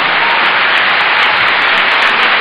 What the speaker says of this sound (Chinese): 我们再继续热烈鼓掌